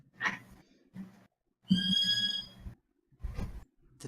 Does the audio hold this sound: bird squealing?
yes